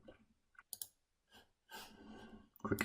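Computer mouse clicks in a quiet room: a few sharp, separate taps spaced unevenly, then a denser burst of clicking toward the end, close and fairly faint.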